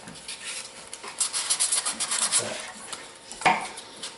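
Close, rhythmic rasping strokes of sandpaper rubbed with a sanding glove over spalted wood, a quick series of scrubbing passes, then a few slower isolated rubs.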